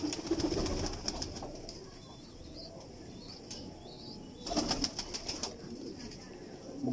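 A prized old pigeon with a dimmed eye, heard as soft intermittent cooing and chirps amid light wing flutters and faint background sounds.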